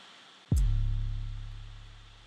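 A single deep 808 bass hit from the Boss Man 808 Essentials drum kit, booming in after a short quiet lead-in and slowly decaying with a low sustained tone, heard alone.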